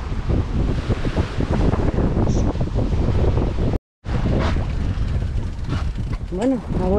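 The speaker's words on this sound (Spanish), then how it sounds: "La ola va subiendo, que ha empezado a soplar el viento" Strong wind buffets the microphone over rushing sea waves aboard a boat on an Atlantic crossing toward the Azores, a loud, continuous roar broken only by a brief dropout.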